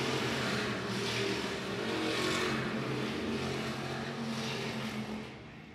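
Hobby stock race cars roar around the oval at I-76 Speedway, a dense, steady blend of several engines at full throttle that holds loud throughout and eases slightly at the end.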